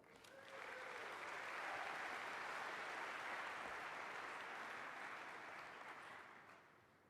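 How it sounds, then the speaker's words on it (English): Big round of applause from a DEF CON conference audience welcoming a speaker, a loud, dense, sustained wash of clapping that swells in, holds steady for several seconds with no talk over it, then eases off. "Let's get a big round of applause for him."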